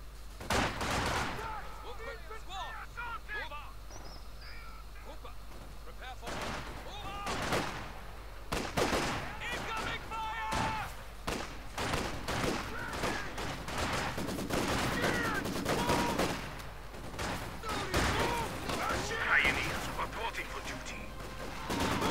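Machine gun fire and other gunshots burst repeatedly in a Company of Heroes 2 battle, sharp cracks and rapid volleys over a busy game soundscape with a voice speaking at times.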